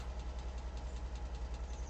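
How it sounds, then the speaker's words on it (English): A truck engine idles steadily at close range, a low rumbling throb with an even, regular pulse that carries on alone without any talk. "leave the truck run for a moment"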